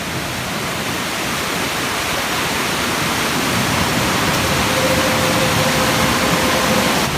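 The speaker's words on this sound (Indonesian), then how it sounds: "Ke air terjun ini." Curug Luhur waterfall near Cirenghas in Sukabumi roars as a loud, steady broadband rush of falling water, continuous throughout with no voices.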